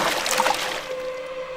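A thrown doll smacks into water, a loud close splash with a bright spray that trails off into gentle sloshing as it settles afloat.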